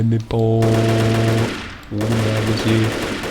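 Rapid automatic gunfire in the online shooter WolfTeam, two long bursts of rattling fire separated by a short pause, loud and close.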